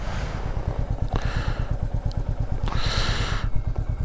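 A Royal Enfield Meteor 350 single-cylinder motorcycle engine runs at low revs, a steady close thumping putter with rhythmic pulses and some mechanical clatter throughout.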